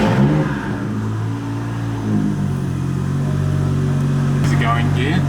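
A Toyota Soarer's 1JZ turbo engine running and revving, a loud steady rumble with rising and falling harmonics throughout, close by, and a voice talks briefly over it.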